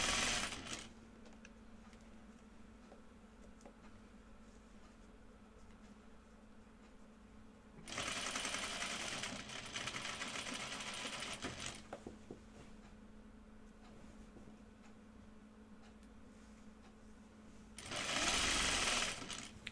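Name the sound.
sewing machine hemming a cardigan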